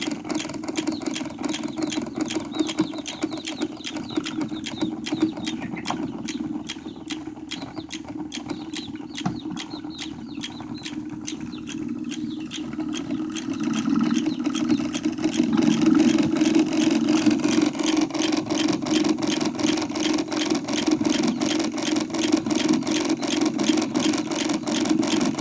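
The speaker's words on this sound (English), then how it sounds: "Yeah, I could run this motor for a little while" A small electric motor runs continuously with a steady hum and faint mechanical whir, growing somewhat louder and brighter partway through, with no talk over it.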